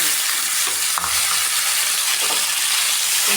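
Cumin, mustard seeds, onion, curry leaves and turmeric fry in hot oil, giving a dense, loud, unbroken sizzle with a few faint crackles and no talk.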